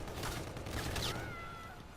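A UDM submachine gun from Call of Duty WWII firing in the game, a short rapid burst under faint background game sounds, heard alone without talk.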